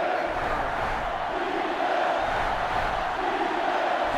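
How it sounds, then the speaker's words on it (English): A sellout stadium crowd in the NCAA Football 2005 video game keeps up a loud, constant roar and chant during an Ohio State versus Penn State matchup, swelling slightly without letting up. "This sellout crowd is really making a difference now as these guys can't even call the play."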